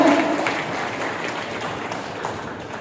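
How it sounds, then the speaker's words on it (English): Steady, dense applause from an audience at the close of a five-hour training session on value education and Bloom's taxonomy, filling the whole moment with even clapping and no clear speech. "Please give a big round of applause for you all."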